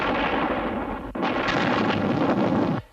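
Battle-scene gunfire effects from the UFO TV series: a dense, continuous roar of shots and blasts, briefly dipping near the one-second mark, then surging again before cutting off abruptly near the end, with no talk.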